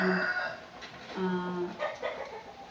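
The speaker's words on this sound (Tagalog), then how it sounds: "Pasensya na po sa mga tunog ng mga manok kasi yung kapitbahay ko is maraming manok." Chickens cluck and a rooster crows nearby in short bursts, mixed with voice-like sounds, from a neighbor's flock outside a house by a road.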